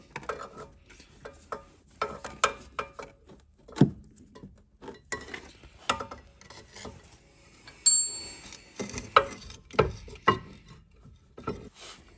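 A 14mm spanner works on a brake pipe of a Volvo V70, S60 or S80 during a rear brake caliper replacement, giving sparse, close metallic clicks, scrapes and knocks in irregular bursts against a quiet background.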